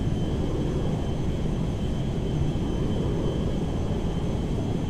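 Airbus Beluga jet in GTA 5 rolling for takeoff at full power, a constant loud, broad engine roar with heavy low rumble and no letup.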